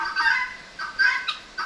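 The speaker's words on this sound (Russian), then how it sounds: "специальные вольерчики, курятники для гусей, для уток, для петухов," Farm poultry call from enclosures and coops for geese, ducks, roosters and turkeys on a farm in the Malaysian hills, with several short honking, gobbling bursts in quick succession, moderately close and with no talk.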